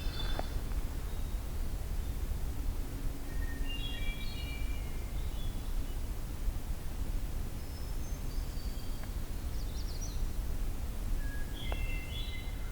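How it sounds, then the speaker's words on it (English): Several thin, high-pitched magnolia warbler songs in short bursts, spaced apart, fairly distant over a steady low hum of background noise. "I was right, magnolia warbler."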